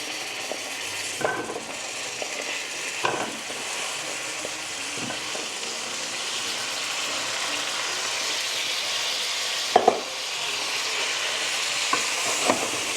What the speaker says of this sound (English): I'm going to stir fry the cauliflower.